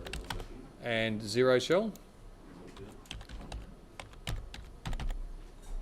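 Soft clicks of typing on a computer keyboard, scattered quiet keystrokes in irregular bursts, with a brief stretch of a man's speech near the start.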